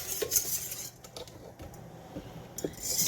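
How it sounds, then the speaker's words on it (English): A whisk beats milk, sugar and yeast together in a bowl. It sounds as quick, close metallic clinks and scrapes with a rhythm that rises and falls, and no one talks. "So then I just take a whisk"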